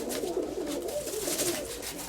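A male pigeon, a grey bird, coos softly and steadily in a series of low rounded notes, close by, with a faint hiss of background ambience and no talking.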